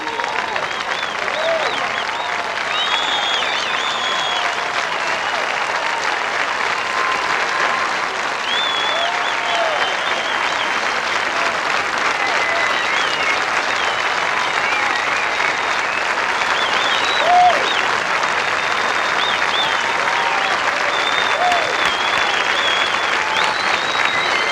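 Golf gallery applause at the finishing 18th hole of the final round of the women's open at Oakmont, sustained dense clapping from a large crowd at steady loudness, a commentator's voice faintly underneath.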